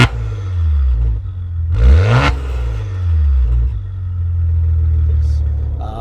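A 2018 Maserati Levante S GranSport's 3-litre twin-turbo petrol V6, built with Ferrari, rumbles loud and close, revving sharply once mid-way before settling back to a deep idle.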